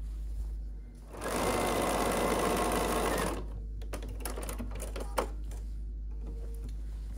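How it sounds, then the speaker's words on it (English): A sewing machine stitches quilt pieces together in one steady run of about two and a half seconds, loud and close. Quieter handling noises and a faint steady hum follow. "I can sew these together."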